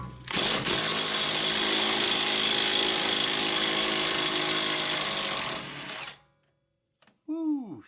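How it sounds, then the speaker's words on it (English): A Milwaukee impact wrench hammers loose a rear strut nut on a Honda Accord: a loud, continuous buzzing rattle runs for about five seconds, then cuts off, followed by a brief short tail of sound. "I'm going to grab an impact and just see if we can zap it off."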